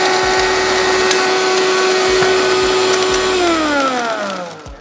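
A blender grinds a 1986 Michael Jordan rookie trading card, its loud, steady motor whine running close and alone before the motor winds down near the end.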